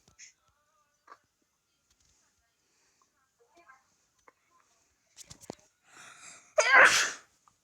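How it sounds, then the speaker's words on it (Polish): One loud, close sneeze bursts out near the end after a few faint clicks and near silence. "Przepraszam was bardzo za kichnięcie, po prostu mnie zakręciło w nosku."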